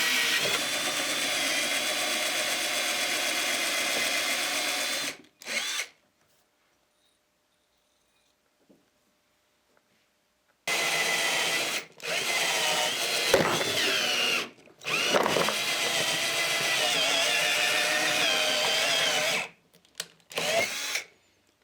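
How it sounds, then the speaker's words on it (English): A power drill whines loudly in long sustained bursts while drilling out rivets on a car trunk lid stay, cutting off for several seconds of silence before resuming in repeated runs with short pauses. "You'll notice that the drill bit tends to get stuck as you're doing this."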